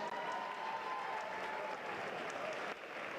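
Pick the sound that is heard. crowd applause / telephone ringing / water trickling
crowd applause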